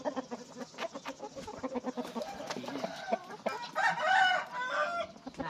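Rooster crowing close by, with the drawn-out crow rising late in the clip over a background of clucking fowl and farmyard chatter.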